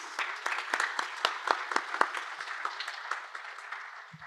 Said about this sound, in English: let's just give Silke a round of applause